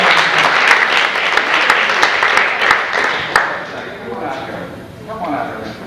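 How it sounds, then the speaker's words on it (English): An audience applauds at a high school hypnosis show, a loud, dense round of clapping that thins out after a few seconds as a voice speaks over the fading claps. "Take a round of applause."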